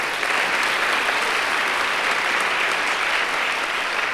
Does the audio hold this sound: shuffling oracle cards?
no